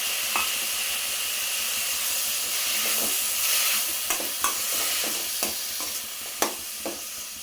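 Onions and tomatoes sautéing in a pan for tomato kurma, a steady soft sizzle with sharp scraping clicks of a spoon stirring at irregular intervals, close and without talk.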